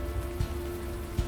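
Steady rain falling in the video game Unavowed, a dense, even hiss over a low hum, with a couple of faint soft thumps.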